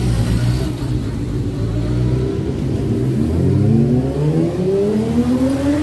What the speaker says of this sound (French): Les voitures, ça va, mais les motos, je ne peux pas parler.